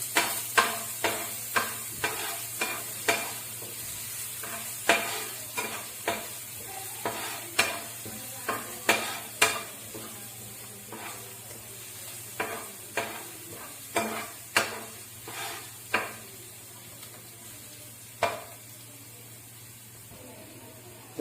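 Chopped garlic sizzles on a low flame in a pan, with a soft steady fry under repeated sharp scrapes of stirring that come in an irregular rhythm, close and clear.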